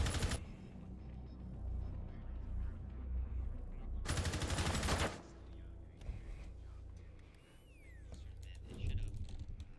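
Bursts of gunfire in a Rainbow Six Siege PC esports match: a sharp loud burst at the start and a longer sustained volley mid-clip, with scattered game effects and a steady low background under it.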